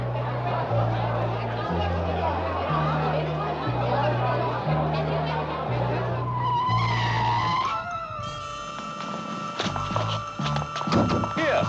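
A car pulls up with tires skidding and squealing, the screech rising over a bed of music and background chatter, loud and close before fading into the scene.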